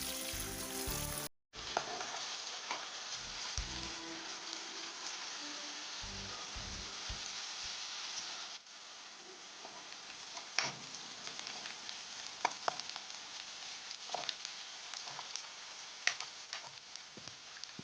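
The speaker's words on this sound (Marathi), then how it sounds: "दोन बारीक चिरलेले कांदे टाकून घेऊया कांदा गुलाबी होईपर्यंत परतवून घ्यायचा आहे" Finely chopped onions fry in a pan until pink, a faint steady sizzle with occasional light stirring clicks and scrapes, briefly interrupted near the start before settling into a softer hiss.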